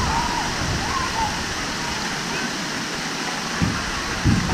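Rushing water pours at a water slide in the Legoland water park, a continuous loud roar with a couple of splashy thumps near the end, while voices are heard nearby.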